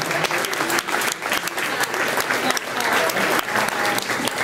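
A youth football banquet audience applauding the coaches, loud sustained clapping from a room full of people, dense and steady for the whole stretch with a faint murmur of voices mixed in.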